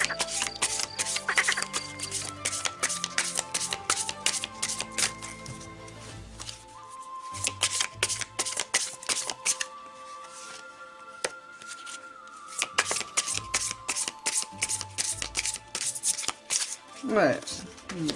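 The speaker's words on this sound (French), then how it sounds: "Allez, je vais tirer 3 cartes." Oracle cards are shuffled and drawn in a close series of dense, crisp riffling bursts with brief pauses, while soft music plays and someone speaks French between shuffles.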